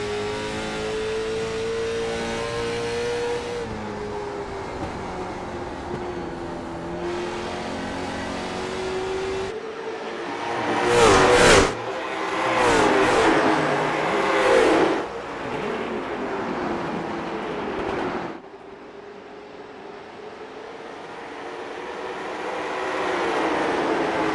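Late model race cars roar past on an oval's front stretch, engines droning steadily then swelling into loud close passes with shifting pitch before fading to a quieter hum.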